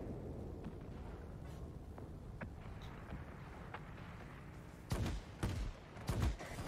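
Quad 37mm cannon fire from an XP-58 in World of Warplanes, sharp heavy bursts over a steady engine and wind rumble, growing into louder clustered volleys toward the end.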